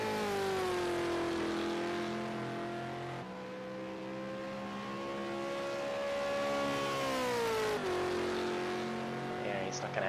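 A V8 Supercar engine drones through a lap of Willow Springs International in a racing video game, its steady high-pitched whine rising and falling with gear changes and throttle, loud and continuous throughout.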